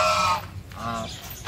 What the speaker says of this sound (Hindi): ये दूसरी नस्ल का लड़ाके मुर्गे होते हैं उसमें